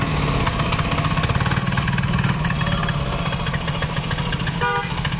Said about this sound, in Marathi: सात एच पी चेन कल्टिवेटर कोळपणी यंत्र